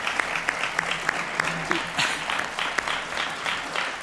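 Audience at a university lecture applauds, a fairly close clatter of clapping with a few sharp individual claps standing out, steady throughout without speech.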